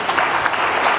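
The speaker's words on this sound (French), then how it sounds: "Applaudissez pour lui, merci beaucoup." Applause from an audience at a film launch event in a hotel: a short, steady patter of clapping with no pauses, moderately loud and even across the whole moment.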